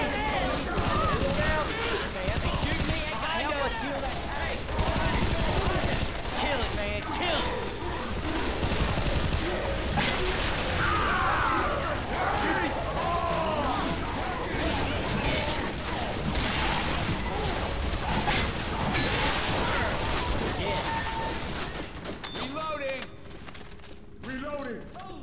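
Dense, continuous gunfire in Left 4 Dead 2 on the Devil Mountain custom campaign, with shots layered over busy game noise while several voices shout throughout.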